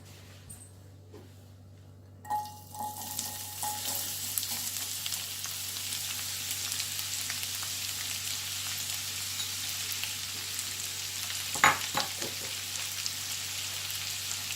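Onions sizzle and fry in a pan with cardamom and clove for paneer butter masala, a steady close hiss with no talk that swells after a quiet start, with a brief stirring clatter near the end.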